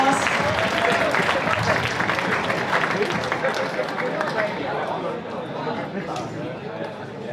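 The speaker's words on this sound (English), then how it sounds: "And let's give them a big round of applause." Spectators at the 2021 European Youth Championships opening ceremony in Tilburg, Netherlands, give a team a loud round of applause that fades gradually, mixed with crowd murmur and scattered voices.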